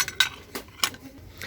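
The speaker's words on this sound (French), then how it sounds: "Donc on a le bol, la petite assiette et la grande assiette." Opal glass plates and a bowl clinking as they are handled: four or five short, bright chinks spaced irregularly, close and moderately loud, with no voices.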